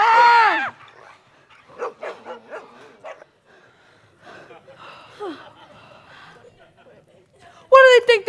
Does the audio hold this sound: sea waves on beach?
no